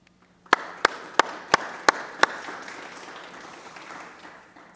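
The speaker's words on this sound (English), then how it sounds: "So please give the team of Remix El Barrio again a warm applause." An audience at a conference session applauds, starting with six sharp, distinct claps that trail into a fading wash of clapping.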